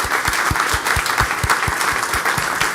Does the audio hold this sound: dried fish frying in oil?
no